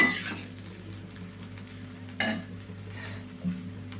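A spoon stirs mango pulihora rice in a pan, giving soft continuous scraping and mixing with a few sharper clinks of utensil against the vessel, close and alone with no talk.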